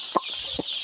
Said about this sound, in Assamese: আজি আমাৰ সেকেন্ড বেটছৰ পোৱালি আহিল 2100 পোৱালি আহিছে বৰ্তমান আমাৰ ইয়াত